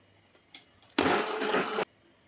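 After a few soft clicks, a hand blender mixing zucchini pancake batter whirs loudly for about a second, a harsh buzzing burst, then stops abruptly.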